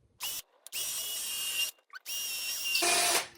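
A power drill bores pilot holes for screws through a guitar-building mould, running in three loud sustained bursts with short pauses between, the last ending in a rougher, harsher whine as the bit breaks through.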